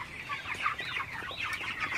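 Broiler chickens in a poultry shed, a dense chorus of clucking and chirping calls over steady low background noise, close and continuous.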